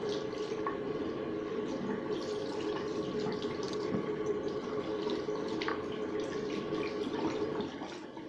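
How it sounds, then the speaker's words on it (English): Makeup brushes rinsed under a running tap, a continuous moderate stream of water splashing into a sink with faint drips, steady throughout and easing slightly at the end, no speech. "So now I'm gonna rinse them."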